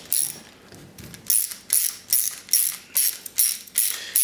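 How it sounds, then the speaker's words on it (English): A ratchet clicks in quick repeated strokes, about eight sharp close bursts in a steady rhythm, as bolts are tightened evenly on the acrylic plates of an HHO hydrogen fuel cell. "Now what you're gonna do is go ahead and finish tightening."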